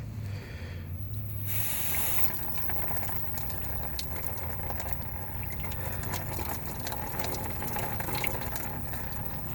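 Coolant drains out of a 2000 Jeep Grand Cherokee 4.0 during a water pump job and pours steadily into a pan below, a close, continuous splashing trickle with a brief louder gush near the start.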